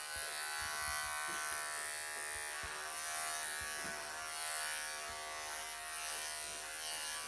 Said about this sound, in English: I didn't get my clippers going.